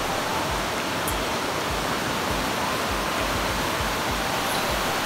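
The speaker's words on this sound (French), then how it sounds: "La vue depuis la chambre est vraiment très belle et on entend la cascade d'eau." A waterfall outside a Japanese onsen inn roars as a loud, continuous rushing of water, steady and unbroken throughout, with no voices.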